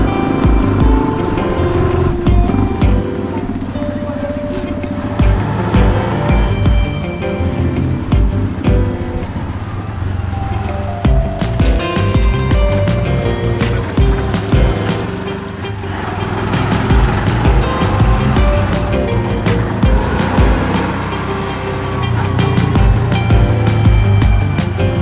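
Steady vehicle rumble and road noise from inside a moving car, loud and continuous for the whole stretch, with occasional knocks and bumps over the drive and no talking.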